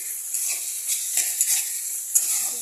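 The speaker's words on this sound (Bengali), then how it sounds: "আমি এটাকে একটু নাড়িয়ে একটু জাস্ট খুন্তি দিয়ে জাস্ট একটু চ্যাপটা চ্যাপটা করে দেবো" A spatula scrapes and taps in a pan of sizzling samosa filling, stirring and flattening it with a few soft, irregular strokes over a steady hiss.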